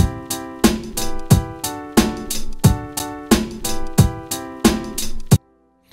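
Synth chords repeat in a steady rhythm, each one struck and decaying, then the sound cuts off to silence.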